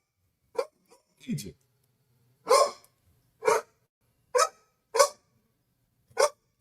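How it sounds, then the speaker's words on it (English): A dog barks in about six sharp, separate bursts spaced a second or so apart, loud and close, with a brief spoken word near the start. "this dog is crazy"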